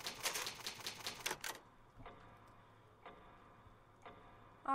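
An old typewriter in the Resident Evil game, typed in a quick burst of crisp, evenly spaced clacks, then a few slower single strikes and a final louder mechanical clunk, with no talking.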